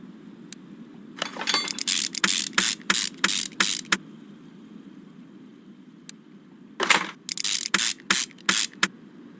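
Engine reassembly on a Dodge Hellcat's motor in Car Mechanic Simulator 2021, with new cam gear and timing belt going on: two bursts of rapid ratchet clicks, each a run of about eight quick mechanical clacks separated by a quiet pause.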